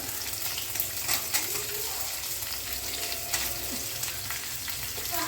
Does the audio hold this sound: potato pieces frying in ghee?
yes